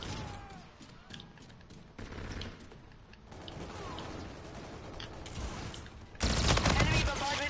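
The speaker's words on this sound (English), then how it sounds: "I was shooting a turret" Shots fired at a turret in an online shooter crackle as repeated, rapid gunfire under mechanical clanks and game noise, growing louder toward the end, with a voice speaking faintly in the background.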